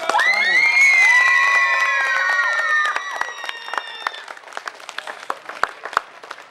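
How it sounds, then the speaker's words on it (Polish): Applause and cheering from a crowd at an outdoor festival follow a sustained musical tone that fades out, leaving scattered claps and shouts that thin toward the end. "Brawa dla..."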